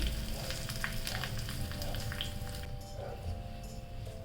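Mustard seeds, curry leaves and red chilli hit hot oil for a tempering, crackling and sizzling in close, busy bursts with scattered sharp pops and a constant hiss underneath, fading slightly toward the end.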